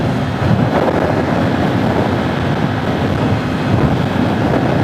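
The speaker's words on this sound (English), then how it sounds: "It is kind of windy" Constant roaring wind buffeting the microphone on a 2019 white Yamaha R3 motorcycle at highway speed, a dense, steady rumble with no voices.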